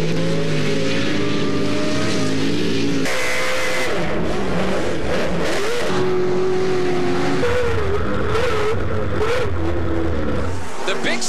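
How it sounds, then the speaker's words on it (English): Off-road race truck engines roar loud and close during a 2009 TORC Series race at Bark River, revving up and down with shifting pitch and bursts of tire noise, continuous throughout. "Listen to those engines roar."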